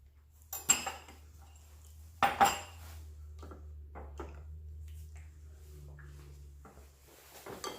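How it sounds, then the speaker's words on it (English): A spatula works Jamaican banana bread batter in a bowl, making scattered clinks and scrapes against the bowl with a couple of sharper knocks, over a low steady kitchen hum. "I'm gonna use my spatula now."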